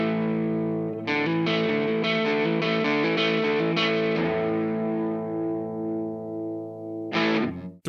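Gibson ES-340 electric guitar run through effects pedals, giving a distorted, chorused tone: a series of strummed chords ringing loud and close, then a long sustained decay and a final bright strum, with no voices.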